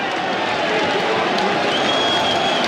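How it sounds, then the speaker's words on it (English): A cricket crowd at Headingley during an England v Australia Ashes Test swells as a steady roar of cheering and clapping, dense and distant, with no pause. "So again, the crowd rise."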